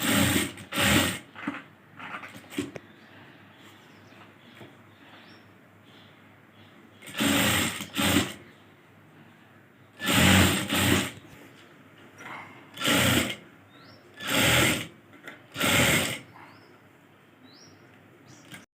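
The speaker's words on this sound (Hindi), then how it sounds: "अब हमें इस किनारे किनारे पे सिलाई कर देनी है।" An electric sewing machine stitches along the pinned edge of blouse fabric in several loud bursts of rapid whirring, a few seconds each, with quiet pauses between them.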